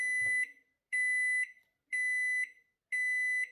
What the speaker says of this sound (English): And it beeps 5 times.